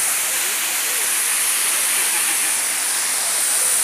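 Cola de Caballo waterfall in Santiago, Nuevo León, a loud unbroken roar of falling water, broad and steady like heavy hiss, close and alone without talk.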